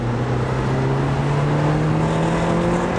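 A rattly Toyota Yaris SR 1.8 with a turbo conversion accelerates hard, its engine tone climbing steadily in a loud, close drone from start to finish.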